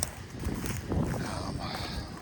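Wind gusts across an open sandy country road near Lamont, Oklahoma, a loud continuous rumble and buffeting against the microphone, with faint talk mixed in underneath.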